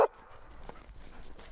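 An army service dog gives faint, short barks and yips at a distance over a low background hum, with no talk over them.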